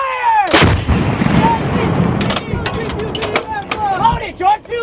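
HIMARS rocket launcher firing missiles, a Ukrainian strike on a Russian ammunition depot: a loud roaring launch blast with a long rushing whoosh, followed by more sharp booms, shouted commands and voices over the noise.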